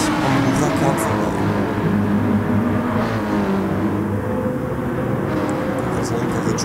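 A Porsche race car on the Nürburgring 24h course, with a 510 hp 4-litre six-cylinder boxer engine, roars past in a loud sustained engine drone, with commentary in German over it.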